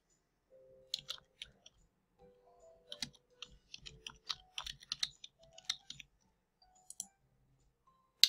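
A username is being typed on a computer keyboard as a sequence of soft, irregular key clicks in short bursts with pauses between them, close and quiet, with no talk.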